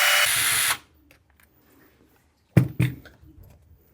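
Short whir of a power driver backing out 2.5mm hex screws from an Arrma Kraton differential, lasting under a second, followed after a pause by a few close clunks of the part being handled.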